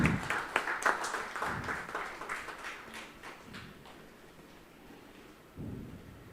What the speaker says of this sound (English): A big round of applause for our judge.